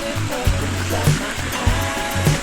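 Waterfall at Falls 4 in Bulacan, a steady broadband rush of falling water running without a break, with a faint low rumble pulsing underneath.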